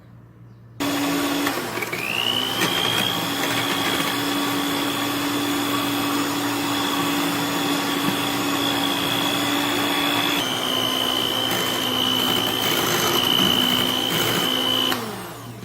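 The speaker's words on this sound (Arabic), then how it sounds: "وبعدين هنبدا نخفق" An electric hand mixer whips very cold milk with a spoonful of sugar into cream, running as a steady loud motor whine that holds pitch then drops slightly partway before stopping.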